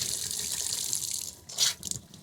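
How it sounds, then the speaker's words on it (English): Hot water running from the galley faucet of a parked Leisure Travel Vans camper at a campsite, a steady close hiss of flow with a brief louder gush near the end. "we'll just turn over the hot tap on"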